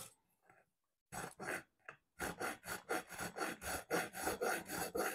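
After a few faint scrapes, sandpaper rasps over metal in a quick series of about a dozen even back-and-forth strokes, close and fairly quiet, trimming a port on a Honda Dio 90cc stroker racing engine.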